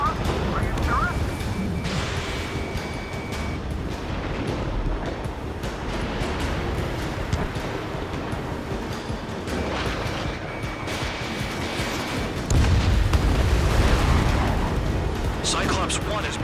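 Missile explosions burst amid a roaring jet engine and dense combat noise in the Ace Combat 7 video game, a heavy deep blast landing near the end while radio voices talk over the action.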